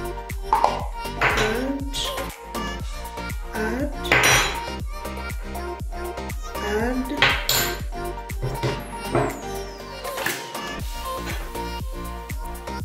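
Chips and chicken being mixed with red pepper, salt and spices in a metal pot, with repeated ringing clanks and scrapes of a spoon against the pot in an uneven rhythm, close and fairly loud.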